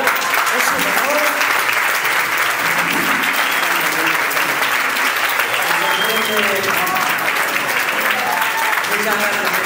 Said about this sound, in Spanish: fuerte aplauso a Irún Amuchi, por favor